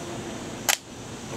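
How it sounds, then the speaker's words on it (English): A Polaroid Automatic Land Pack camera shutter fires once, a short sharp mechanical click-snap heard up close on its own in a quiet room. "I just took my first picture by cocking the shutter and then pressing the red shutter button to take my picture"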